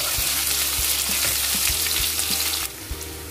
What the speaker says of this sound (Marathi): आता मी कांदा तेलात छान परतणार आहे।